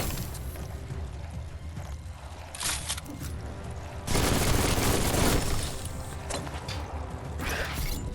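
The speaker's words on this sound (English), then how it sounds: "Bullets everywhere." Gunfire in the action game Biomutant: dense rapid bursts of shots layered over continuous game noise, swelling into a heavy sustained barrage midway before easing slightly.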